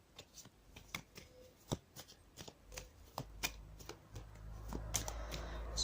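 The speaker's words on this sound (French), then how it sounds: "Ensuite, je vais tirer une carte pour le domaine sentimental." Cartomancy cards being shuffled and drawn during a tarot-style reading, a quick run of crisp, close papery flicks and snaps that grows into a denser riffling rustle toward the end, with no voice over it.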